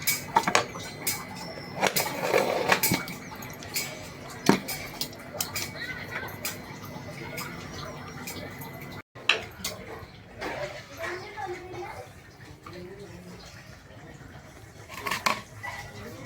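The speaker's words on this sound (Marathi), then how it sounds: "चला आता आपण झाकण लावूया" A metal lid is set onto a pot of egg khichdi, giving a few sharp clinks and clatters among other kitchen knocks, with a voice talking over much of it.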